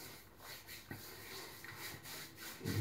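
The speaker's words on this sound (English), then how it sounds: "it's the soap as you rub it that lathers it, makes it go white" Shaving soap worked by hand into a lather, a soft repeated rubbing and scrubbing close by, in uneven strokes that build to a louder burst at the end, with no voices.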